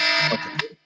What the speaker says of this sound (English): Oops, that's my alarm to tell me it's time to Faika.